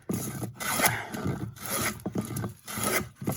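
A hand plane strokes across the surface of a wooden hewing block, giving repeated rasping scrapes in a quick rhythm of roughly one pass per half second, close and fairly loud with no talk.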